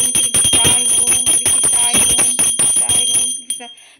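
A hand-held puja bell rings rapidly in repeated metallic strikes, bright and close, with shimmering overtones that taper into a short fading ring.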